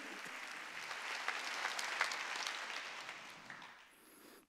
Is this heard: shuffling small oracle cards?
no